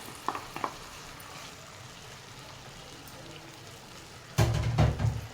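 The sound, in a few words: fish frying in a pan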